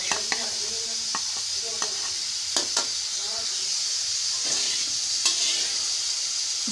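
Ghee poured into a hot kadhai (wok) for suji halwa, a loud steady sizzle with scattered clinks and scrapes of stirring close by.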